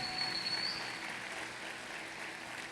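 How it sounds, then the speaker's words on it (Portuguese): Congregation applauding Jesus during a Sunday service at Igreja Bola de Neve in Curitiba, a soft, steady wash of distant clapping with no voices over it. "Pode aplaudir Jesus mais uma vez"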